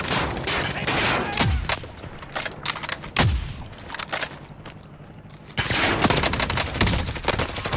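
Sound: gunfire in video game Call of Duty Warzone

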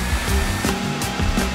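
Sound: blow dryer turned on

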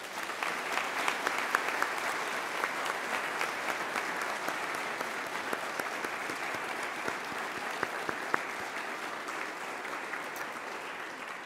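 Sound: audience applause at an awards ceremony

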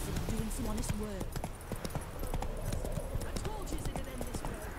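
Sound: horse Roach's hooves, from video game The Witcher 3

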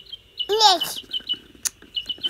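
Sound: birds chirping

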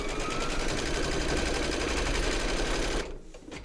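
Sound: embroidery sewing machine stitching a hoop

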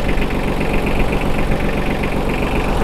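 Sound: Yanmar F155 mini tractor engine running

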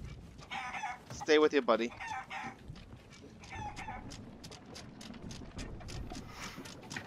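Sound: chicken clucking in the video game Sea of Thieves

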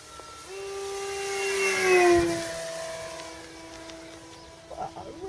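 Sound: RC plane motor running in flight

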